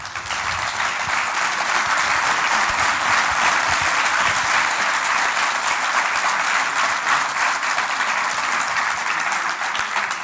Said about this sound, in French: je crois que les applaudissements s'imposaient